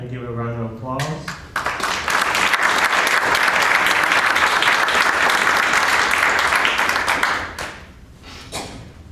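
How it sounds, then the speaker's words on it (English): Audience at a Sierra Club meeting applauding to welcome a speaker: a voice talks briefly, then loud sustained clapping swells for several seconds and fades out, with a few scattered claps at the end. "So if you can just please welcome her and give a round of applause."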